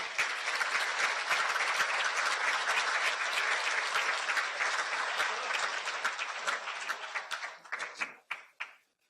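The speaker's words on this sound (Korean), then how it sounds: "멋진 공연을 보여준 경기도청 합창단원에게 다시 한번 큰 박수 부탁드립니다." A large audience at a Gyeonggi Provincial Government new-year ceremony gives a big round of applause for the provincial choir, a dense, sustained roar of clapping that thins into a few scattered claps before fading out.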